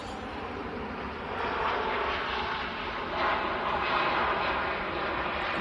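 Airliner jet engines at an airport, a broad steady roar that swells slightly louder partway through and holds, with no talk over it.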